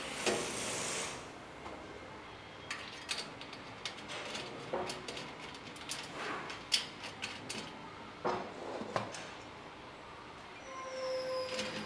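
Screw driven and tightened while fitting a pneumatic sauce dispenser, a run of close ratcheting clicks and metallic ticks with short bursts of scraping, faint rustle between.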